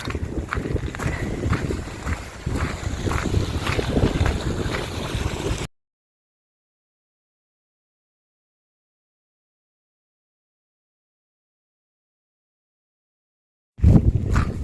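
Blustery wind roars across the microphone in a steady rush, cuts to total silence, then gusts back in briefly at the end.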